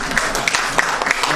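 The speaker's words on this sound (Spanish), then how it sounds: "Un aplauso para" Brief burst of applause at a socialist party regional congress in Valparaíso, with voices and cheers mixed in throughout.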